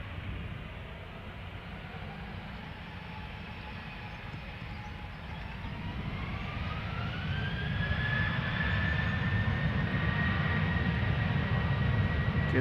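A jet airliner in Marimekko Kivet livery passes at Amsterdam Schiphol Airport, its steady engine roar building slowly and swelling louder as it draws closer near the end, with no talk over it.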